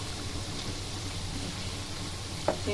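Lentil fritters for dahi bora fry in hot oil, a steady close sizzle with a small clink near the end.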